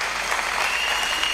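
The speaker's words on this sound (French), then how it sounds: "Est-ce que nous pouvons acclamer très fort?" Church congregation applauding and cheering during a French-language Sunday service, a steady, dense wash of clapping that fills the whole moment without pause.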